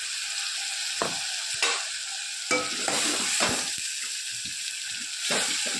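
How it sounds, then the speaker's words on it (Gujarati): Onion, garlic, green chilies and tomatoes fry in oil with a steady, close sizzle, broken by several sharp clatters of stirring in the pan. "હવે આપણે 4-5 પરી જેવું તેલ નાખ્યું છે અને અંદર ડુંગળી, લસણ, લીલા મરચાં અને ટામેટાં"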